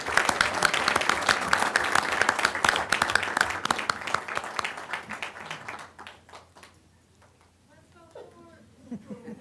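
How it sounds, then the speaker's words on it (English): At a school board meeting, an audience gives dense, loud applause for Fort Defiance performing arts students, then the clapping gradually thins out and fades, with a voice starting to speak near the end. "So one more applause for Fort Defiance and their program."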